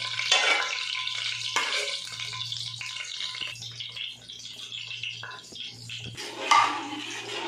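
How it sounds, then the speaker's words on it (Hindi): A spoon stirring thick beef nihari in a pot, with scraping strokes in uneven bursts over a low bubbling simmer and a constant faint hum, close and moderately loud. "इसको चम्मच लगाते रहना है ताकि ये गोश्त बिल्कुल मिक्स हो जाए"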